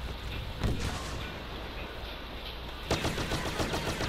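Rapid video-game gunfire, a thick stream of overlapping shots and bangs, loud and close, with a sharper burst of fire near the end.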